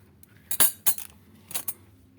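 Metal kitchen utensils such as spoons and a skimmer clink against one another in a few quick bursts, a close cluster near the start followed by another pair a second later, with quiet between.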